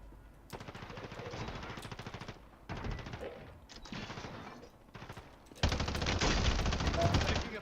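Sustained automatic gunfire from a video game shooter comes in dense rapid bursts with short gaps between them, loud and continuous, ending in a heavier final burst.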